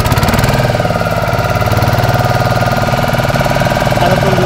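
A boat engine runs steadily on a coastal river trip toward an estuary, a continuous loud mid-low rumble with knocking pulses and no break in level throughout.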